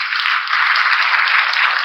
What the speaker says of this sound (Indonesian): Berikan tepuk tangan buat Bastian ya.